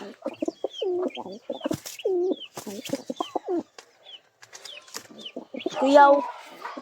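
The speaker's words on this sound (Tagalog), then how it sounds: "mga kalapatids, mag-wrestling sila, mga kalapatids" Pigeons scuffle at close range in a burst of throaty coos, grunts and wing flutters, with a louder flurry near the end and a voice speaking between the calls.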